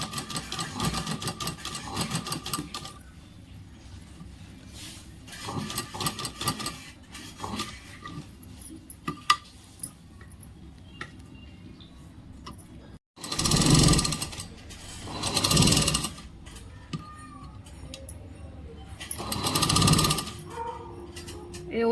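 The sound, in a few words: sewing machine stitching a blouse neckline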